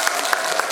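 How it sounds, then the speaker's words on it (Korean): Parents in an audience clap at a kindergarten recital, a close, steady patter of many hands with a few sharper claps standing out in a very short burst. "박수 부탁드리겠습니다."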